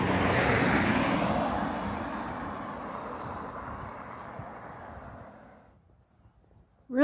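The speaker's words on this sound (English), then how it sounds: "Really nice view on Water Street here." Ocean waves on the shore at Water Street, Yarmouth, Nova Scotia: a wave washes in with a broad rushing hiss that slowly recedes and fades to near quiet, followed by a brief burst of wind noise.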